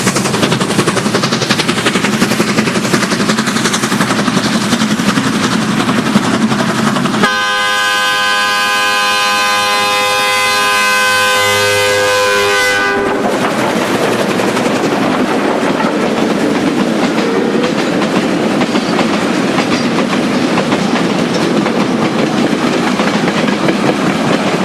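Steam locomotive on China's Jitong Railway, a nearly new state-built engine, gives a long, loud whistle blast of several seconds in the middle, framed by continuous heavy chuffing and rumbling rail noise before and after.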